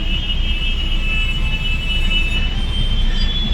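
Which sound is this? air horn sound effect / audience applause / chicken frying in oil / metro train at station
metro train at station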